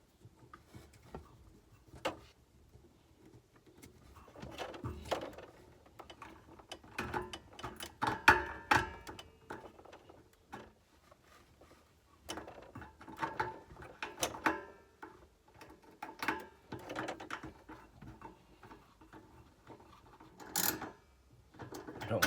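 Ratchet and hand work tightening fittings on a Truma Ultrastore water heater element: scattered quiet clicks, ratcheting ticks and metallic knocks in irregular bursts, close by with no talk.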